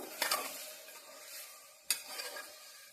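Curry leaves on their stems dropped into hot oil for a tempering, giving two sharp bursts of crackling sizzle that fade into a soft, steady frying hiss, quiet and close.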